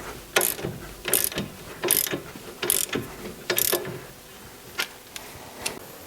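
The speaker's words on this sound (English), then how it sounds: "So I'm going to take off my tie rod. This is an 18mm nut." Ratchet clicking off an 18mm tie rod nut on a Porsche Boxster's front suspension, five quick bursts of ratcheting strokes followed by a few fainter isolated clicks, close and clear with no talk.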